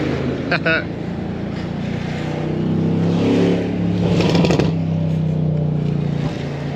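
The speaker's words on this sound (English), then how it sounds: "And the exhaust off this thing." A motor engine drones steadily with rising revs and a throaty exhaust roar, loud and close, with faint voices mixed in.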